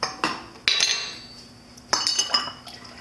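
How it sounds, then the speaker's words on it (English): Kombucha being ladled into bottles with a 4-ounce Vollrath ladle, heard as sharp metallic clinks and taps against glass, spaced irregularly with soft pouring between them, close up. "This is a 4-ounce Vollrath ladle, 3 ladlefuls in each bottle"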